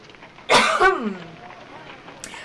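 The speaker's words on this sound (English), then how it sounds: "oh no, I'm coughing." A single sharp cough bursts out close by, followed by quiet room tone and a faint click.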